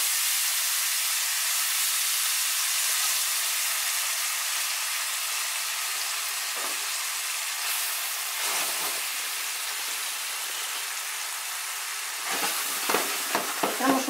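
Hake's green sauce sizzles and hisses steadily in a frying pan, a continuous broad frying hiss with a few brief stirring scrapes near the end; no one speaks.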